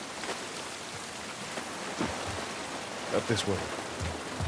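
Rain falls steadily outdoors in the video game The Last of Us, a dense, hissing wash with scattered heavier drops, while a character speaks briefly over it.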